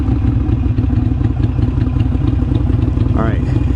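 A Harley-Davidson Iron 883 motorcycle being ridden, its engine throbbing steadily and loud close up, with a brief rising rev near the end.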